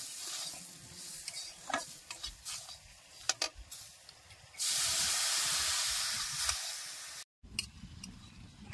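Semolina stirred in a hot pan while water is sprinkled in, scraping and stirring clicks followed by a sudden, sustained steamy hiss and sizzle, then stirring again, close, with no talk.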